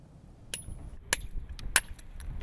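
A stonemason's hammer strikes a chisel into mountain stone, giving three sharp ringing metallic taps about half a second apart, followed by softer clicks over low background noise.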